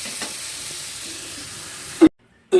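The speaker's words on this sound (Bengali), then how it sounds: "ভালো করে ভাজা হোক" Vegetables seasoned with salt and turmeric sizzle steadily in a hot pan, close and loud, with a scrape of stirring before the sound cuts off abruptly and briefly returns.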